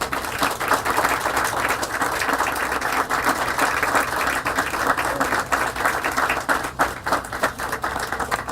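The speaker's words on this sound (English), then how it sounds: "let's give him a round of applause" Sustained audience applause at a museum capital campaign announcement, with dense clapping filling the space evenly and steadily for the whole stretch, with no voices rising above it.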